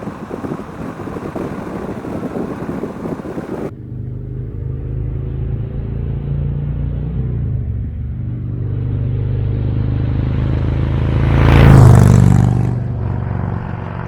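Harley-Davidson Touring motorcycle engine while riding, a deep steady rumble with wind buffeting the microphone, swelling to a louder surge near the end, with no talk.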